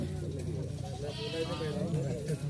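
Goats bleat at the Surewala livestock market during an auction. Several wavering bleats sound through the crowd noise while an auctioneer keeps calling out bids over them.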